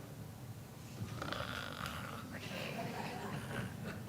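A person imitates a meerkat snoring with a low, rough, breathy rumble that repeats over a few seconds, close and fairly quiet.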